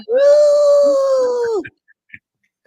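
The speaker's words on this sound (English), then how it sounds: "The little wolf that's just learning how to howl." A young wolf pup trying out a howl: one sustained, wavering tonal cry lasting about a second and a half, loud and close, ending abruptly, followed by a few faint small noises.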